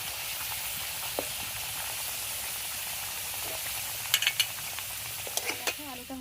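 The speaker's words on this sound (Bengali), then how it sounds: "এই যে আলুটা ভাজছি" Potato slices fry in hot oil with a steady, bright sizzle, and a few sharp stirring clinks and scrapes near the end.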